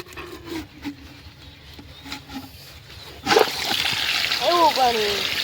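Water suddenly gushes out of a tank in a strong, steady rush as it drains, after a few quiet seconds with light knocks. A voice speaks briefly over the flow.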